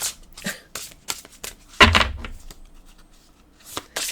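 A deck of Earth and Bone Oracle cards being shuffled by hand, a run of short papery riffles and taps with brief gaps between them and one heavier bump partway through, close and fairly quiet.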